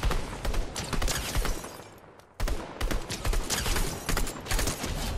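Gunfire in the video game Fortnite comes as dense, loud bursts of rapid shots, a short pause, then more sustained fire.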